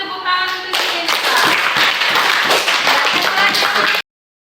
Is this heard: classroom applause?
yes